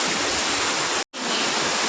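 Heavy rain pours down in Dholka as a dense, constant roaring hiss, broken by one brief dropout near the middle, with no talking.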